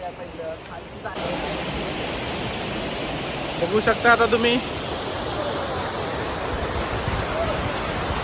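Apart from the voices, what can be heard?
waterfall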